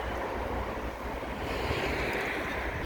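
Steady, broadband wind buffeting a microphone outdoors on a walk, a continuous roaring rush with no speech, fairly loud and unbroken throughout.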